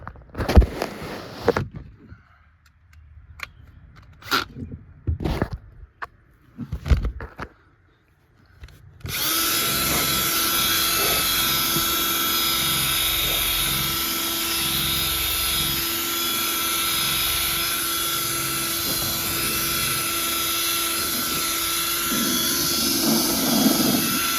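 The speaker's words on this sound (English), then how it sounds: "Just to loosen everything up, and then come back with the drill brush" A power drill brush whines steadily and loudly scrubbing a Chevy Equinox car seat for a long stretch after a few short bursts and scattered knocks, with a constant high-pitched motor tone.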